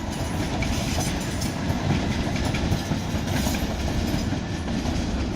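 A British Rail Class 455 train on a London Waterloo service rolls through Clapham Junction, loud and close, with continuous rumbling and clickety-clack wheel noise.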